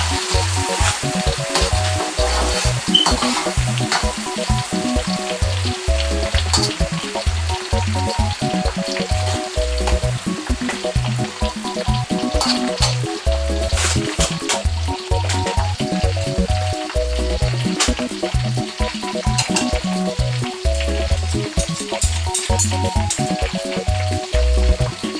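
Chopped onions fry in a pan for homemade shito pepper sauce with a steady, even sizzle throughout, over a rhythmic low thumping beat.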